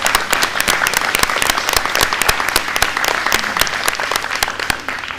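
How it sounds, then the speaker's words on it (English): Dense applause from a room of attendees at an annual board and member meeting, steady broadband clapping sustained throughout without voices. "Becky, I'd like to give you a big round of applause"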